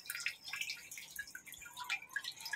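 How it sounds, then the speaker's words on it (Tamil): Water drips from a drip irrigation tube in a terrace garden, making faint, irregular patters and droplets in a quiet outdoor setting, with no talk. "சொட்டு நீர் பாசனத்திற்கான டியூப் எடுத்து அந்த பைப்பில் சொருகி வைக்கிறாங்க"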